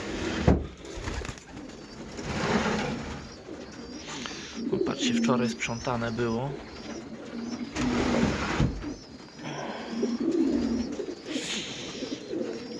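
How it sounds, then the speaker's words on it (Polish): Pigeons coo in soft, repeated throaty calls near their nest, close by and interleaved with someone speaking Polish; occasional rustles and clicks punctuate the calls. "Gołębie jeszcze są na gniazdówce"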